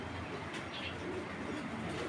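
A male Kamakar pigeon coos softly in a low, murmuring drone that runs steadily through the moment, faint and fairly close, with no talk over it.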